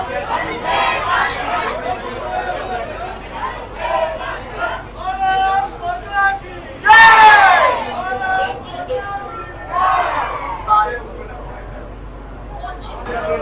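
Dense crowd chatter and overlapping voices fill a packed railway platform at Sealdah as the first AC local train to Ranaghat departs, with a loud shout or burst of cheering midway and steady babble throughout.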